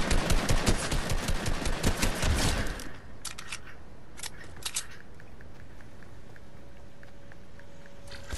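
Gunfire in the video game Fortnite comes as a dense rapid burst of shots up front, then thins into scattered, fainter distant shots over a low background hum.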